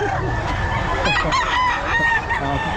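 Black Peruvian rooster crossed with Tornado Hatch crowing loudly and close at a busy pet market, a single drawn-out crow over a dense background of other birds and market chatter.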